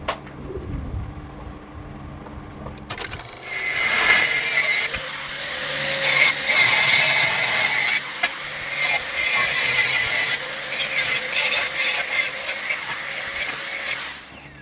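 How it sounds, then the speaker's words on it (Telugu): A cutting machine slices through metal pipes for a door build, starting after a short quiet stretch and then grinding loudly and continuously with rhythmic pulses and brief pauses until near the end. "ఇప్పుడు మీ మిషన్తో కటింగ్ చేయాలి"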